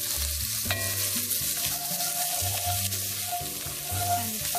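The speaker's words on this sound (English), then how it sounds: "And just cook this for about 30 seconds to a minute." Shallots sizzle steadily in a hot pot over reduced heat, left behind after browned lamb shanks were lifted out; a close, continuous crackling hiss runs throughout, with a low tonal hum underneath and no talking.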